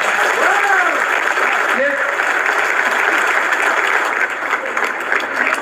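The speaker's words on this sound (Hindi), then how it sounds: "तो एक बार इन लोगों के लिए जोरदार तालियां" An audience claps for volunteers at a Pearlvine International gathering, a steady wash of applause lasting several seconds, with brief voices cutting through near the start.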